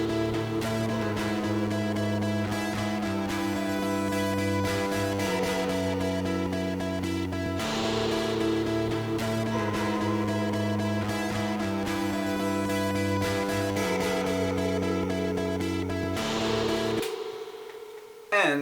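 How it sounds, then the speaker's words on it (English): Electric guitar through a chorus effect, part of a studio mix, plays sustained shimmering chords and lines alongside a full band backing, loud and steady throughout, then cutting off near the end. "So the next guitar is the chorus guitar"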